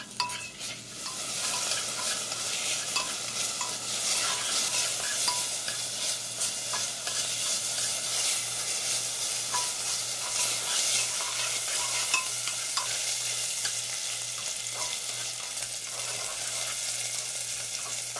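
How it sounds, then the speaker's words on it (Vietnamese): Fatty pork frying in a clay pot, a steady loud sizzle with occasional stirring scrapes running continuously throughout, up close and without talk. "Đầu tiên thì mình cho thịt mỡ vào để cháy cho ra mỡ nè."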